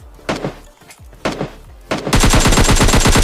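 Video game gunfire, a few single shots first and then a sustained rapid burst of machine gun fire, loud and close in a multiplayer shooter, with no talking over it.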